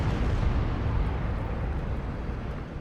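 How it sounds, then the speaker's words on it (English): Mega Rumbler artillery explosions in the real-time strategy game Dawn of War 2 produce a dense, continuous low rumble of blasts that stays loud and heavy throughout, with no speech heard. "The screen is shaking because of the Mega Rumbler."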